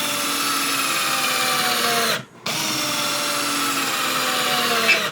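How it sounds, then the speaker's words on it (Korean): A WORX 12V cordless drill driver sinks a 75mm screw into wood, its motor whining steadily and loud, cutting out briefly near the middle before spinning up again to finish the drive. "일단은 드릴 드라이버 간단하게 피스 한번 박아볼게요"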